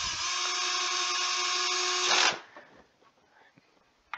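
A power drill drives head bolts on a DIY scale assembly, whining steadily and loud for about two seconds before cutting off, followed by faint handling clatter.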